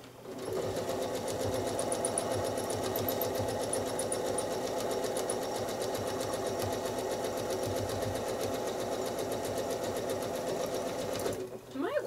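A sewing machine runs steadily while machine quilting a house-design quilt block, a continuous close, loud motor whir with rapid needle chatter that lasts nearly the whole time before stopping near the end.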